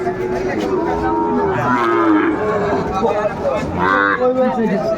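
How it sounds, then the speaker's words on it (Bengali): A Sahiwal bull calf at a cattle market in Narail lets out drawn-out, wavering moos close by, with a second call later, over a steady murmur of crowd chatter and nearby voices. "শাহিওয়ালের ষাঁড় বাচ্চা"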